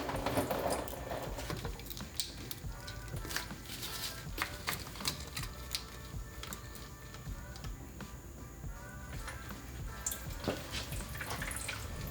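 Coolant from a Mazda Miata's disconnected upper radiator hose drips and trickles into a drain pan, a quiet irregular patter of drops over faint background noise.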